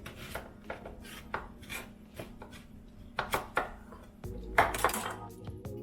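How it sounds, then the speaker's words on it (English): A knife chops through celery root on a cutting board with a quick series of sharp knocks and taps, close and crisp, ending in a few firmer strikes. "So I'm just going to cut it in half one more time."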